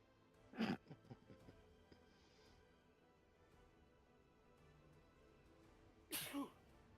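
Two sharp sneezes from a person in a quiet room during a tabletop game session, one near the start and another near the end, loud against faint background hum.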